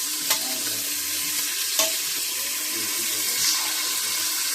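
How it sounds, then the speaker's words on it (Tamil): Onion, garlic, green chili and green peas being stirred in a pan, with a steady frying hiss, a few sharp scrapes of the spoon against the metal, and a low background hum throughout. "கிரீன் பீஸ், நீ கலக்கி விடு."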